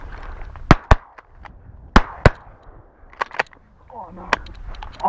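Shotguns fire over a public-land marsh during a duck hunt, several sharp, loud reports in quick pairs and clusters, with hunters talking between shots.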